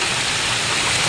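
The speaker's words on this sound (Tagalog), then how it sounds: "Grabe ang ulan." Heavy rain pours down in a dense, steady roar of broadband hiss, loud and unbroken from start to finish, with no voices over it.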